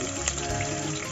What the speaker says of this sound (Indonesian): akar daun ketumbar ni kita masuk, kita tumis